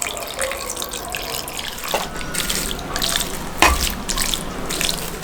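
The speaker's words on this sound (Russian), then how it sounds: "добавляем немножко бульона, чтобы было плотнее мясо" Pork broth poured over pressed pork head meat for homemade brawn, a close, steady liquid trickle with small splashes and a couple of brief clinks.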